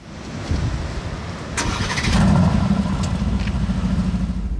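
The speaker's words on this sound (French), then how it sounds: "On va vous filmer le démarrage et quelques revs de la voiture." An Aston Martin Vantage Roadster V8 engine cranks and fires up, then settles into a loud, deep rumble with a few blips of revving, close by.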